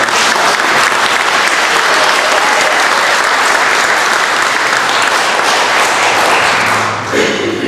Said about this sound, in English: please give these volunteers a round of applause